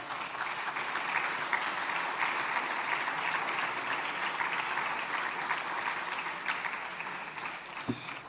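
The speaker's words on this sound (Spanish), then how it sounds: "Un aplauso para tu padre." An audience at an international forum applauds steadily, with dense, even clapping sustained for about eight seconds at a moderate distance.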